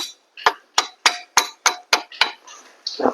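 Seven sharp metallic taps from a hammer loosening an air-conditioner belt part on an Isuzu D-Max, in a steady rhythm, close and loud, followed by a brief scraping clatter.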